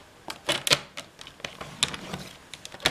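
Card stock is scored for a swing card, giving a quiet, close run of short, sharp scrapes and ticks in an irregular rhythm with no voice.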